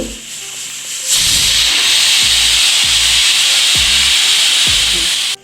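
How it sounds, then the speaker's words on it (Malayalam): A kitchen pressure cooker vents its whistle. After a quieter second, loud continuous steam hissing bursts in and runs to the end, with faint low thumps repeating underneath. "അപ്പോൾ ഇതാ നമ്മുടെ അടുത്ത വിസിലും കൂടെ വരുന്നു കുക്കറിൽ നിന്ന്"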